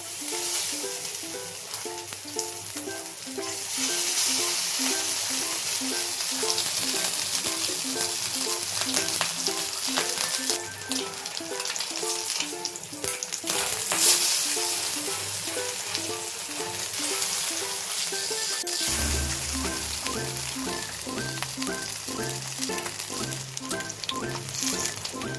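Fish kebab frying on a flat tava, giving a steady, close sizzle that runs throughout with occasional stirring, no voices over it.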